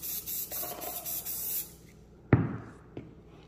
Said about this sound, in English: I'm still gonna put my stainless steel cleaner.